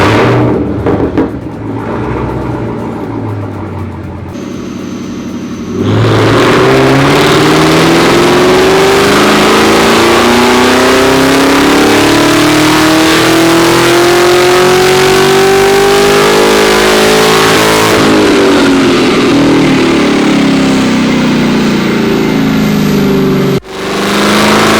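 Nissan GT-R or Camaro ZL1 1LE on a dyno: an idling engine jumps into a loud full-throttle pull, pitch climbing steadily for over ten seconds before easing back and cutting off sharply, with no talking.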